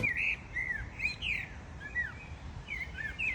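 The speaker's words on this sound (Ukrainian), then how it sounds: "Дуже гарно, дуже зелено і окреме щастя це спів пташок." Birds sing in Hryshko Botanical Garden in Kyiv, giving repeated bright chirps and short whistled phrases at moderate distance over a soft, steady outdoor hum, with no talking.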